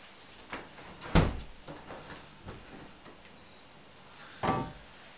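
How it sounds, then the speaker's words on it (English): A tilt and turn window swings inward on its tilt hinge, giving two sharp, close clunks from the handle and frame a few seconds apart, with softer creaks and taps between them. "The first action of a tilt and turn window is that the window tilts inwards."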